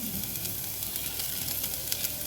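Onion frying in melted butter gives a steady, soft sizzle with a faint crackle, close and continuous, with no voices.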